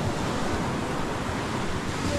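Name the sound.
big ocean waves crashing on the shore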